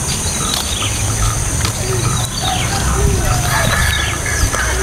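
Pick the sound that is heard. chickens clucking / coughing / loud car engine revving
chickens clucking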